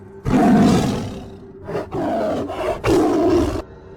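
A tiger lets out deep, loud roars in three long bursts separated by brief pauses, close and dominant.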